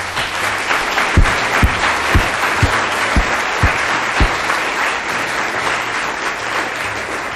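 An audience applauds warmly, a full wash of clapping with a few heavy thumps at a regular beat in the first half.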